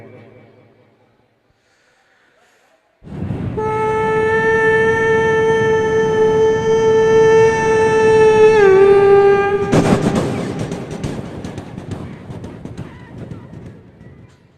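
A voice imitates a train horn at a level crossing, a long sustained tonal blast that bends in pitch, then gives way to a rushing rumble that fades.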